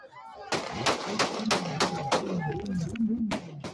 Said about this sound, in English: When gunshots rang out, prompting everyone to duck for cover.